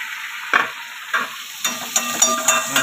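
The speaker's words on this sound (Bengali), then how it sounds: "পাঙ্গাস মাছ ভাজা হচ্ছে" Pangas fish fries in a pan with a steady sizzle, broken by several sharp bursts as the pieces are stirred or turned, each one flaring and then settling back into the hiss.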